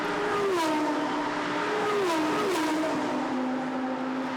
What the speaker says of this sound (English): A superb noise as the cars howl past the camera there